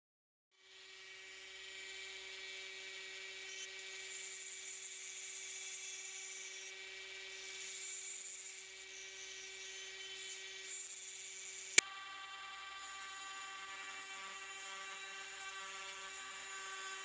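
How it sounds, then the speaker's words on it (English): A Dremel rotary tool working on an antique French kerosene lamp starts up and runs as a steady, thin high-pitched whine heard close and alone for about sixteen seconds, with a single sharp click partway through. "I had to use three different heads for my Dremel for the various sizes of areas I was working with."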